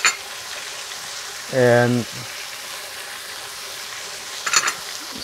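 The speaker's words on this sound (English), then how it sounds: "Now I'm just putting them all together, let them saute" Turmeric, black pepper and garlic powder sauté in a pan for eggplant rice, a steady sizzle heard close, with a brief spoken word partway through and a short clatter near the end.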